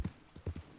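Horse hooves clip-clopping in Red Dead Redemption 2, a few soft, uneven beats close by, with no talking over them.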